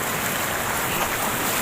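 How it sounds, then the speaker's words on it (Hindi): Water from a small waterfall and stream at Tamasin in Jharkhand rushes in a steady broadband roar, close and continuous with no pauses, alone without any voices. "जैसे छोटा झरना"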